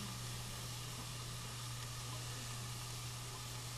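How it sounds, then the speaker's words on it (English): Onions sauteing in salted butter give off a steady, quiet sizzle and hiss with no talking, the faint frying sound holding even throughout. "we are going to add our onions. And we are going to saute these until they are"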